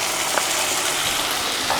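Onions and tomato sauté for kothu chapathi with a steady, close sizzle and hiss in a hot pan, broken by faint stirring scrapes.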